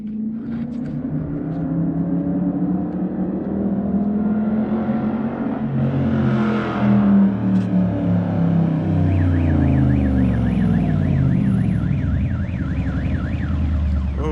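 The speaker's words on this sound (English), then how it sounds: "making car alarms go off." A car alarm blares loudly and continuously nearby, cycling through its pulsing, warbling tones over an idling Dodge Challenger Scat Pack or Charger R/T engine at SEMA, Las Vegas.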